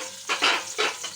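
Dry fruits and nuts frying in a pan for a jaggery rice dish, a short loud sizzle swelling in two bursts as they are stirred.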